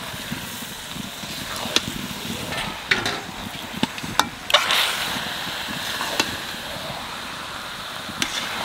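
Mutton pieces dropped into a pan of frying spices for a curry, a steady sizzle with repeated sharp scraping and stirring clicks close by.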